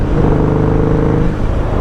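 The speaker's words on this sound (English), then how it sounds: "The more you twist the throttle, the louder it gets." A Harley motorcycle fitted with a Vance & Hines exhaust rumbles steadily and loudly at close range, its throttle held up in a sustained, even rev with no pauses.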